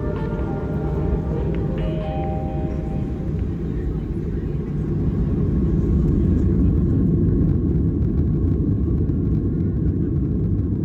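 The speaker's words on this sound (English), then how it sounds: "Taking off out of Edinburgh" A Ryanair Boeing 737-800 takes off from Edinburgh, heard from the cabin as a steady, loud, broadband engine roar with deep rumble that holds throughout, with faint tonal whines early on.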